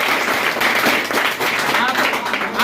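Students in a chemistry coaching class in Darbhanga clap together in dense, steady applause, loud and continuous throughout, with voices mixed in.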